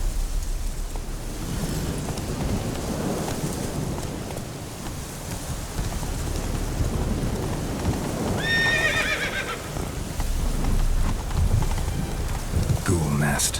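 Roach the horse gallops in The Witcher 3, with steady clip-clopping hoofbeats throughout and a clear whinny partway through. Rain-like noise fills the background, and a voice speaks briefly.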